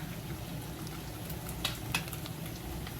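Bacon fries in grease in a pan with a steady, moderate sizzling hiss throughout and a couple of brief sharper crackles near the middle.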